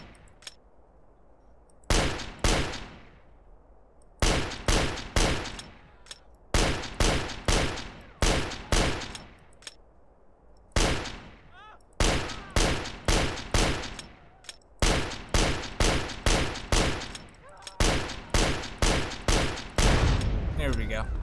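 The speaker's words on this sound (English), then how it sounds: "I think this is one of the best sounds I made. Very fitting of the PSG-1 in my opinion." Custom PSG-1 sniper rifle in a modded GTA San Andreas, firing loud, sharp gunshots in bursts of several rapid cracks, each trailing off briefly, with short pauses between volleys.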